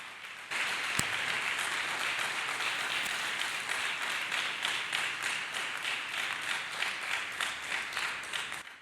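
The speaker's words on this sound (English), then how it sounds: "Let us clap hands for Jesus Christ" A church congregation claps in praise, with steady rhythmic group clapping after a sharp opening clap, sustained and fairly loud throughout, with no talking over it.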